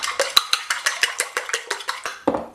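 Eggs for scrambling being whisked in a bowl with milk, a quick regular series of about a dozen sharp clinks and scrapes of utensil against the bowl, close and clear with no talking.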